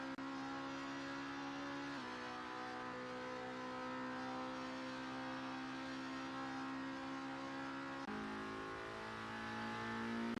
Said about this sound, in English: Richard Reshka is driving through back straight.